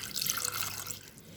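A glass of water is poured onto jaggery in a pot, a brief, soft splashing pour heard close up for about a second and a half.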